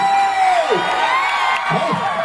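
A crowd at a celebration for a Bigg Boss contestant's family cheers and whoops loudly and continuously, shouts rising and falling together, with voices mixed in.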